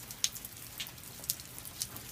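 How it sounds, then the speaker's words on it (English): Rain falls steadily in a soft, even hiss, with a few sharp drips tapping nearby at irregular moments. "More rain."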